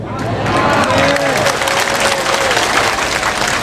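An audience at a religious lecture in Madinah bursts into dense, sustained applause for a few seconds, with some voices mixed through the clapping.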